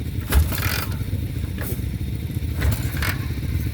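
A Harley-Davidson Panhead hill-climb motorcycle being pop started gives a loud, close rumble of engine and mechanical clatter with scraping, swelling in a couple of brief surges.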